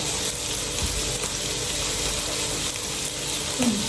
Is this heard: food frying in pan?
yes